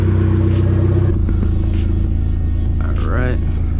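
A turbocharged Hyundai Genesis Coupe R-spec with full bolt-ons and 66,000 miles rumbles while driving, a loud, steady low engine drone from inside the cabin, with a brief voice heard faintly near the end.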